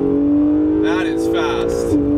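Engine of a modified blue pearl 2017 Acura NSX on air suspension pulling hard in second gear, a steady loud in-cabin drone with a rising harmonic tone, while someone talks over it.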